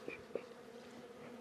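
Honey bees flying around a hive, a steady faint buzzing drone with a few nearer bees passing close, no talking.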